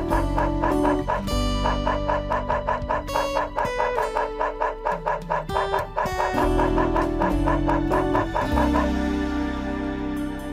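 Cartoonish dog barks and yips from the video game Dog's Life, a dog barking at crows, sounding in quick repeated bursts over bright, busy game music with no talking.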